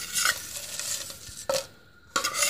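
Vegetables dry frying in a pan with no oil, giving a close, steady crackling sizzle broken by stirring scrapes and a couple of brief louder bursts.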